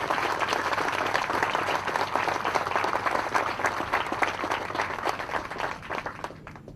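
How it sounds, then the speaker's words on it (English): Sustained applause from a ceremony audience honoring Marines, sailors and a military band at a 2nd Marine Logistics Group relief and appointment ceremony, dense steady clapping filling the whole stretch without talk. "So if everyone could join me in a round of applause for the Marines and sailors and the band."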